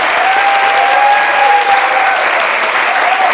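An audience at a presentation battle event applauds the introduction of a judge, with continuous, even clapping that sounds close and full, and a thin tonal whine running faintly underneath.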